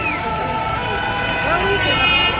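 Fire engine siren wailing as it passes through a noisy street protest in Paris, heard over a dense crowd murmur with voices throughout.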